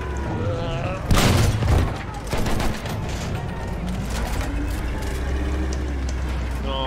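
Heavy gunfire in a Battlefield 1 battle striking a tank, a dense burst of shots and booms around the second mark over a constant rumbling engine and battlefield din.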